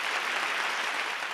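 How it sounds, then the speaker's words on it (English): An audience applauds steadily for a singer at a virtual holiday music camp, a brief even wash of clapping at moderate level with no break. "we got to give a big round of applause"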